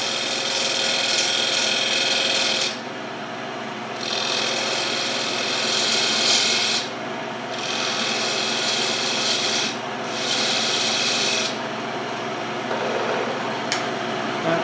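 A bowl gouge cuts a segmented wooden bowl blank spinning on a lathe to make it round, producing loud, continuous scraping and rasping in several long passes separated by short pauses while the machine hums underneath.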